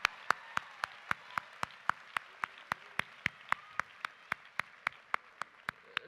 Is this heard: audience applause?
yes